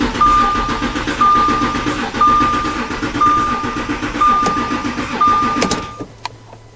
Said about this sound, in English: when we crank the engine, this engine shouldn't start because we have all the injectors disconnected